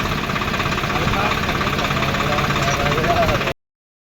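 A tractor engine with a seed drill hitched behind runs at a steady idle, a constant loud rumble and rattle close by that stops abruptly at the end.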